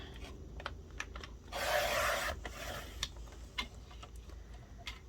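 A paper trimmer cuts a 2.5-inch paper tag strip for a junk journal: a short rasping slide of the blade across the paper, surrounded by quiet scattered taps and ticks close by.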